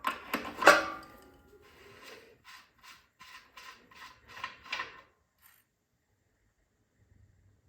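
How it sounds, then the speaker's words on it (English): Crescent wrench turning and loosening the oil fill cap on a log splitter: a sharp metallic clank, then a quick series of about seven short ratcheting scrapes and clicks, close and moderately loud, followed by near silence. "Just get yourself a crescent wrench and open this up."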